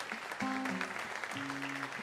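A church congregation claps in praise after a sermon, a steady spread of applause under sustained tones that sound like a held musical chord or voices.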